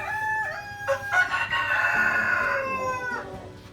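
A rooster crows loudly and close by at a poultry farm in Liberia, one long drawn-out cock-a-doodle-doo with clucking fowl around it.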